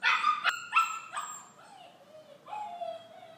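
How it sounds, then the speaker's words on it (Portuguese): A dog barks and yips several times indoors, close and fairly loud, with sharp harmonic barks in the first half followed by softer whining whimpers. "Por que você tá latindo?"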